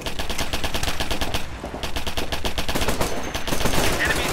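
Dense automatic gunfire in the military shooter Operation Flashpoint: Red River, rapid bursts rattling almost without pause for several seconds, loud and close, with shouted voices faintly under the shooting.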